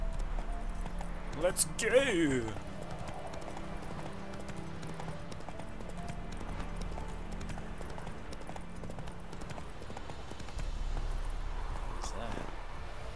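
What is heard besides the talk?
horse Roach's hooves clip-clopping, from the video game The Witcher 3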